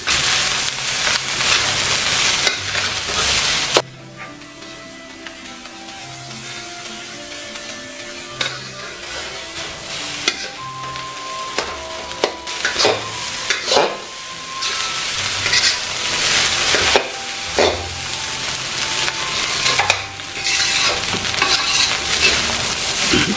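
Shrimp fried rice with egg tossed in a pan on high heat: loud continuous sizzling and hissing steam with repeated stirring scrapes and clanks, easing briefly before surging again.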